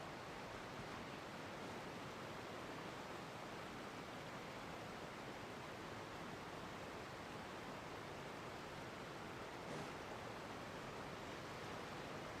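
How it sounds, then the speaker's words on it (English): A large waterfall rushes in Genshin Impact, a broad, steady hiss of falling water that holds constant and moderately loud throughout, with no talking. "That waterfall is even bigger."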